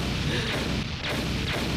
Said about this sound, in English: those were their first cannon shots